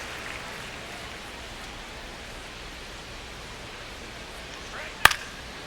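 Rain falls on a baseball field in the video game MLB The Show 26, a soft steady hiss of rainfall throughout with a brief sharp crack near the end.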